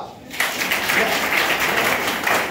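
Students at a school prefects' convention in Uganda applaud a teacher: after a brief quiet moment, a crowd bursts into loud, sustained clapping that continues to the end.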